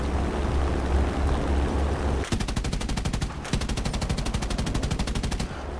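Rapid aircraft gunfire from a PB4Y-2 in War Thunder, two long sustained bursts of evenly spaced shots after a steady engine drone, loud and continuous with a brief pause between bursts.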